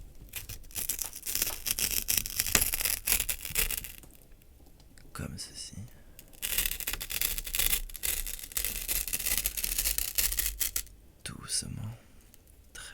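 A sheet of paper is torn slowly into small bits at very close range in bursts of crisp ripping and crinkling, separated by brief pauses, while a soft voice speaks quietly.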